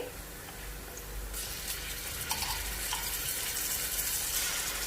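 Onions frying in a pan for a stuffed capsicum and keema dish, with cumin and ginger garlic paste added, give a steady moderate sizzle that brightens partway through, with a few soft stirring touches and no talk.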